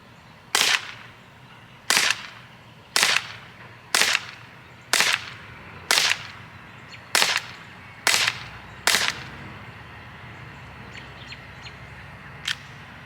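Sig Sauer P365 CO2 air pistol firing a magazine outdoors: nine sharp, close cracks spaced about a second apart, then quiet ambience with one faint later snap.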